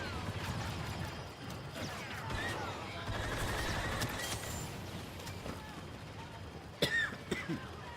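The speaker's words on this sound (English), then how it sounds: "Been fighting a cough quite a bit." Repeated coughing and throat clearing from a person, close and fairly loud, mixed over a busy Star Wars game soundtrack with blaster fire and battle noise.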